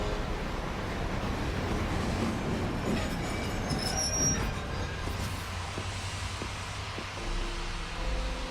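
A train in the video game Lightning Returns: Final Fantasy XIII gives a steady rumble with faint squealing wheels, and a low thump enters near the end. No one speaks.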